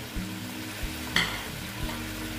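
Pabda fish sizzling in hot oil in a pan, a steady frying hiss with a few soft knocks and one brighter sputter as the fish settles, no voices.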